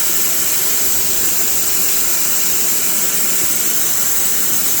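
Air rushes in a loud, steady hiss through a tire valve stem with its core pulled out, continuous and close for the whole stretch.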